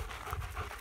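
A dog panting close by, quick rhythmic breaths in and out under a steady background noise, brief and fairly faint.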